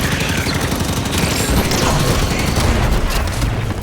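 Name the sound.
gunfire in Halo 5 video game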